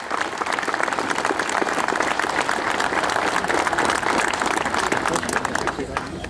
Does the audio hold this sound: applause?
yes